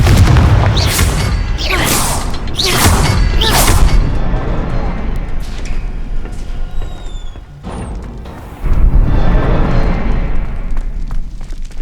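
A Confringo blasting spell in Hogwarts Legacy sets off a rapid series of booming explosive bursts, followed by rumbling debris and a second heavy blast, loud and close in the game's soundscape.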